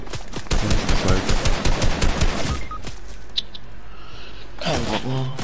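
Rapid bursts of video-game gunfire crackle loudly for about two and a half seconds, then break off into quieter game sounds before another brief burst near the end.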